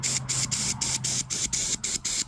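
Aerosol can spraying white primer onto a model jerry can for a Tamiya FAV kit, a close, loud hiss in a series of short regular bursts separated by brief pauses.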